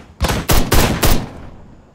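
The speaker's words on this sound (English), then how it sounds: "why are you shooting at me?" Four loud, sharp gunshot bursts ring out in quick succession during a firefight in the video game Ride to Hell: Retribution, each one a broad crack with a fading tail.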